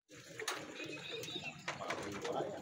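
Racing pigeons cooing softly close by at a pigeon derby, a few low murmuring calls over a busy background with faint distant voices.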